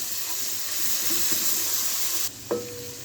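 Ginger garlic paste stirred into onions frying in a pan while cooking aloo baingan, a steady close hiss of sizzling oil with a soft scrape of stirring near the end.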